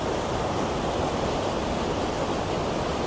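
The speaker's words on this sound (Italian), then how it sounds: "il rumore del fiume, un rumore forte," A river roars loudly where it flows into a lake, a constant, dense rush of water heard close and unbroken, with no talk.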